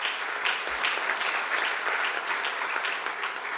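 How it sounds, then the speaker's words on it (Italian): Dense, even applause from an audience at a sports medicine congress on heart and sport, a continuous bright patter of many hands at moderate loudness with no speech over it. "ripetiamo, un grande applauso a Cristiano per l'impegno che mette in tutto"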